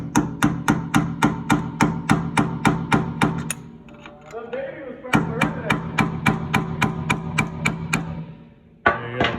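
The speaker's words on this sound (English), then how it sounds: "And then send it home with your hammer and chisel again." A hammer strikes a chisel in a fast, even run of sharp metallic blows, loud and close, pausing briefly midway with faint handling noise before the rapid hammering resumes, then a final hit.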